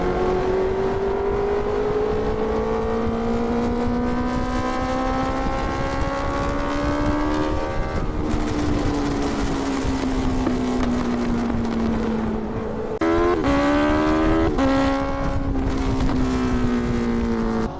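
Honda CBR650R motorcycle engine revving loudly and steadily, its pitch rising and falling through several throttle blips near the end. No flame pops are distinguishable.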